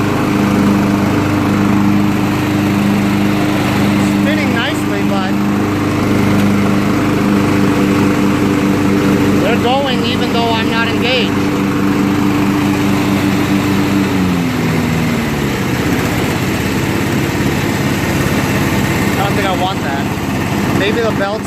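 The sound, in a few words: Craftsman riding mower, Kohler 16.5HP engine, deck engaged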